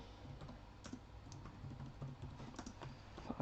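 Steady typing on a computer keyboard, a run of quick, uneven key clicks at close range with no talking.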